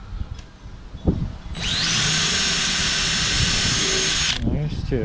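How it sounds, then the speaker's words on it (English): A power drill whirs loudly and steadily for a few seconds, driving a bolt while installing a carbon fiber wing on a 2021 Toyota Supra, preceded by a couple of knocks and followed by brief clatter. "Final bolts are being drilled."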